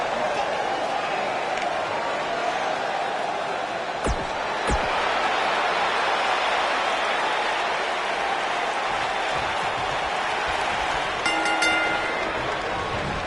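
Steady, dense crowd roar fills a wrestling arena in the video game WWE 2K19, constant and loud throughout, with a couple of sharp thuds and a brief metallic ringing near the end.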